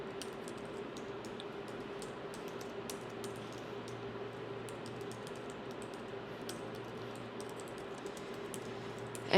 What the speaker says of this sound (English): just type in your personal information